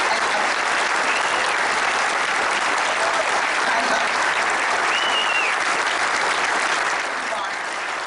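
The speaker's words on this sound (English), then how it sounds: "They're clapping for Betty." A standing crowd applauds and claps continuously for an honored guest, a dense steady wash of clapping heard from a distance that fades slightly toward the end.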